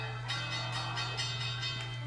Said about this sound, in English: the bell rings for a draw